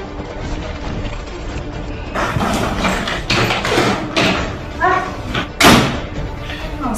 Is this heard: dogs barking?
no